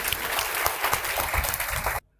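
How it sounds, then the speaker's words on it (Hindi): Loud applause from an audience at a coaching institute's celebration for selected exam candidates, a thick continuous clatter of many hands that cuts off abruptly into silence. "तो एक बार इन सभी के लिए जोर से ताली हो जाए"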